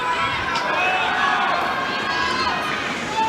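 French Open women's final tennis crowd, a broad, dense murmur and chatter of spectators filling the stadium steadily, with scattered raised voices and no clear applause.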